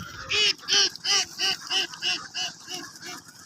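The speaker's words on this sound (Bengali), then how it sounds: "একটি হাঁসের খামারে আসছিলাম" Ducks at a duck farm give a rhythmic run of about nine loud, nasal quacks close by, evenly spaced and slowly fading toward the end.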